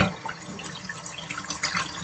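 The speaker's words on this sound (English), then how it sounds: "I'm going to put them in more water" Tap water runs steadily into a sink while cut collard, mustard and turnip greens are washed, a close, continuous splashing hiss with small irregular bursts.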